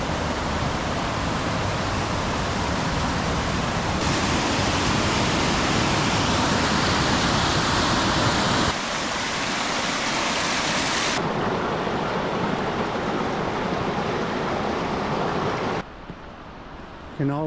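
A large waterfall, Falls Creek Falls in Washington, pours with a loud, continuous broadband roar like heavy rushing water. It stays steady throughout, then the level briefly dips near the end.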